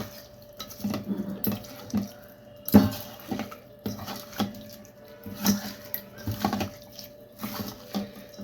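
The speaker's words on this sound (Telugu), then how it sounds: "ఇప్పుడు దీన్ని మనం శుభ్రంగా రుద్ది కడుక్కోవాలి రొయ్యల్ని" Raw prawns are scrubbed by hand in water with salt and turmeric, giving soft sloshes, splashes and drips with occasional clinks against a bowl, quiet and close, in an irregular rhythm and with no talking.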